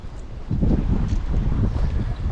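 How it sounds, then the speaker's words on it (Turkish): Strong wind buffets a small boat out on open water during pike fishing, a close, rumbling gust noise with rough surges and no voices. "Vallahi müthiş bir dalga rüzgar var"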